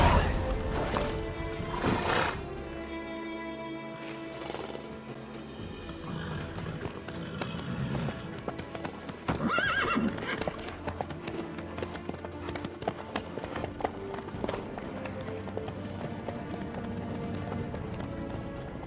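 Horse hooves clip-clop steadily through The Witcher 3 video game as a rider travels, a continuous rhythmic patter under game music and background sound, with brief spoken dialogue.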